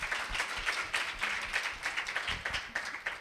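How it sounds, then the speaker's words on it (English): Audience applause at the LBW 2014 business conference: steady, full clapping from a sizeable crowd that carries evenly through the short stretch without fading. "Let's give her another quick round of applause."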